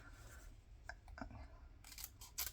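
Paper pieces being cut with scissors for a shabby-style winter journal, several soft crisp snips, quiet and close, with a few brighter rustling cuts near the end.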